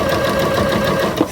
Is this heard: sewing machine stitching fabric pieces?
yes